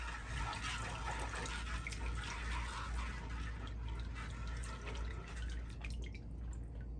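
Water runs and drips while a paydirt bag is cleaned off during gold panning, a continuous close splashing and trickling with scattered wet drops and no talk.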